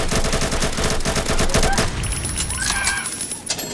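Rapid gunfire from a Mad City video game firefight rattles loudly for about two seconds, then thins into scattered game effects while a voice talks over the action.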